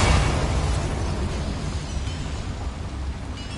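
A Confringo blasting spell explosion in Hogwarts Legacy, one broad booming burst that hits loudly at the start and then decays into a long rumbling tail.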